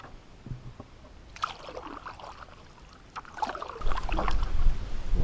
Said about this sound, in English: Paddling across Cook Pond.